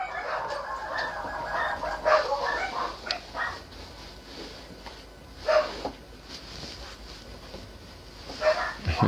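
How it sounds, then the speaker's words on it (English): Indoor dogs scuffling and barking, with scattered sharp yaps and yelps coming in bursts amid quieter background noise and a voice talking nearby. "We have a dog fight."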